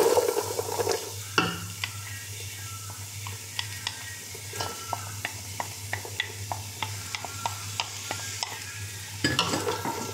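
Fava beans with dill are stirred and fried in a pot, a steady low sizzle under repeated scraping clicks of a spoon against the pot, close and alone.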